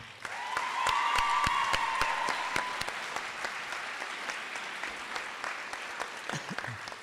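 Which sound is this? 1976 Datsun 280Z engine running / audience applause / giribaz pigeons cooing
audience applause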